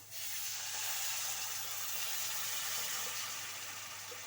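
A steady hiss as water hits a hot pan of brinjal curry, loud at first and then slowly easing over several seconds, with no voices.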